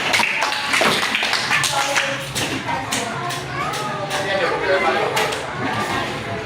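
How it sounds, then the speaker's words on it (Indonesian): Scattered classroom clapping for a group of primary school pupils in an Indonesian math lesson, uneven taps and claps from a small group, close and irregular, with some chatter mixed in. "Beri tepuk tangan untuk kelompok 4."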